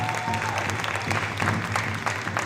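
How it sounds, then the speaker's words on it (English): Steady applause from a powwow audience at a college gathering for the National Day of Truth and Reconciliation, a dense crowd clapping continuously for a few seconds with some voices mixed in. "Let's give them a round of applause."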